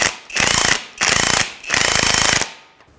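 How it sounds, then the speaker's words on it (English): A ratchet with a 17 mm socket works a strut nut on a 2011-2017 Honda Odyssey, making three loud, close bursts of fast metallic clicking separated by short pauses. "17 millimeter socket. See if we can break that nut free."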